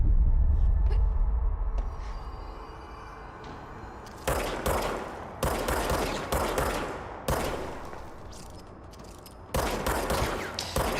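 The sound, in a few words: gunfire from shooting enemies in the video game Control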